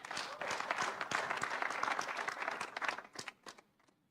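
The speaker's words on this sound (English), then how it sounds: "Give her a clap." At a World Maritime Day session, an audience gives a brief round of applause that holds steady, then thins into a few scattered claps before fading out.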